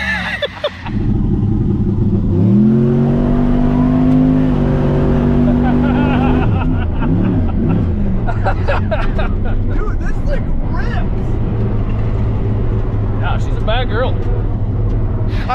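A turbocharged LS-engine truck revs up and holds a rising, throaty roar at a drag strip, then rumbles on under excited voices talking nearby.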